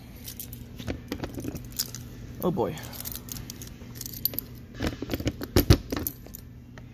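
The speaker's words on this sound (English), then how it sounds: "And I dropped my keys." Keys jingle and clatter as they are dropped on the ground beside a Coleman 300TQ camper, a few brief metallic rattles amid outdoor noise, with a person speaking briefly.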